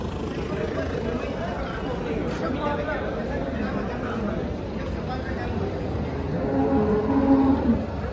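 A Holstein Friesian (HF) cow stands at a crowded cattle market in Ghodegaon. Steady crowd babble and voices fill the air, and a low, drawn-out moo rises near the end.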